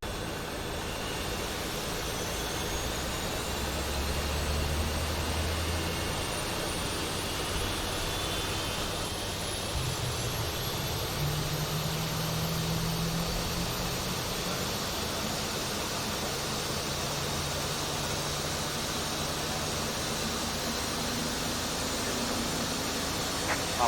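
Airliner jet engine number two spooling up in a flight simulator game, a steady broadband roar with a rising whine that holds constant and loud throughout, no talking.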